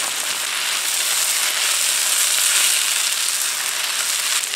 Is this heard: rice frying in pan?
yes